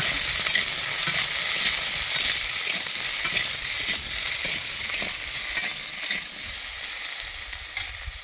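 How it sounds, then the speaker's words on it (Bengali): Potato pieces fry in hot oil in a wok for a vegetarian ridge gourd and potato posto. A steady, close sizzle crackles throughout with light stirring clicks and no talking. "আলুগুলোকে দিয়ে আমি ভেজে নিচ্ছি।"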